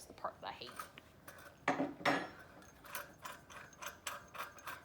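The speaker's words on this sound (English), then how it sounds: "you're going to take your regulator off with your tank key or wrench" Wrench or tank key working the regulator off an H gas cylinder, a few sharp metallic clanks and ratcheting clicks, close and fairly faint.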